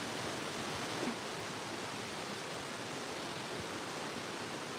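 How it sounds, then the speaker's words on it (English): The giant fingers waterfall rushes in a steady, dense roar of falling water that fills the scene without a break. "We've got the giant fingers waterfall."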